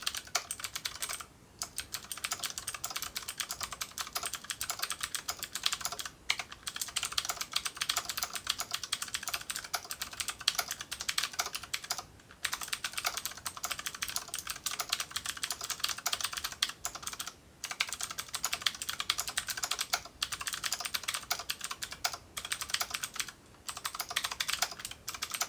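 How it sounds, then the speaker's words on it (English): Typing on a 3D printed computer keyboard, a rapid steady stream of close clicky keystrokes broken by a few brief pauses, with no talking. "Alright, let's do a little typing test."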